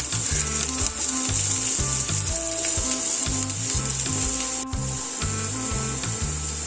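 Sliced onions frying in coconut oil, a bright, steady sizzle running throughout, close and loud, with a low rhythmic hum pulsing beneath it and one brief dip near the end.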